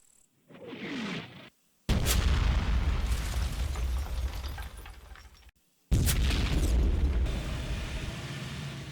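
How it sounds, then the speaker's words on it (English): A pre-planned mortar strike lands on an orchard in the Combat Mission Fortress Italy war game, with two loud, close booming explosions whose rumbling blasts decay over several seconds, after a softer whooshing sound. "The pre-planned mortar strike hits the orchard."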